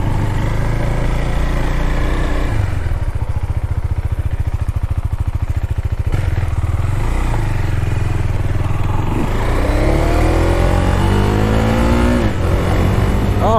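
A Husqvarna Svartpilen 401 motorcycle engine while riding, a close, steady buzzing engine note with wind rush, rising and falling through shifts and revs in the later part.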